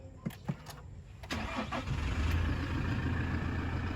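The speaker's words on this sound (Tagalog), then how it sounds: "I already started the vehicle" A 2021 Toyota Hiace Super Grandia with the 2.8 1GD diesel engine is started: a few short clicks, then the engine cranks and catches at about 1.3 seconds and settles into a steady, close idle.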